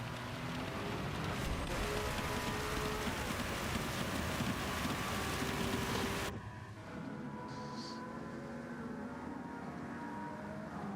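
Heavy rain drumming during the Nürburgring GP in a racing video game, a steady dense hiss filling the whole clip, louder and fuller at first, then dropping to a thinner, quieter wash partway through.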